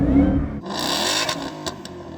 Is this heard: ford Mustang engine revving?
yes